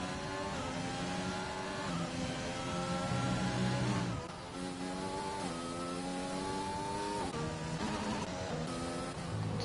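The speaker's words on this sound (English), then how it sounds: "but we got the rev glitch going on" Car engine in a racing video game, Top Gear test track setting with Black Stig, revving steadily with a rev-limiter glitch, loud and continuous, with sharp rising and falling pitch sweeps throughout.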